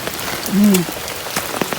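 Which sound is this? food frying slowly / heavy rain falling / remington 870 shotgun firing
heavy rain falling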